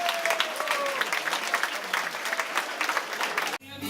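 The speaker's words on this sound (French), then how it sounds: "que je voudrais qu'on applaudisse fortement, Madame Pouvreau, Madame Nadège." A party audience claps loudly and steadily for about three and a half seconds, a dense continuous applause that cuts off abruptly near the end.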